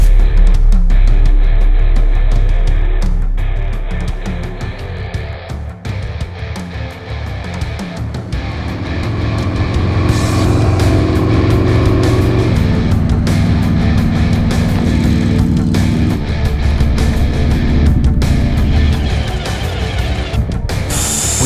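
A custom EVO Softail motorcycle is ridden, its loud, continuous engine drone mixed with wind rush and with shifts in pitch as it changes gears along the road.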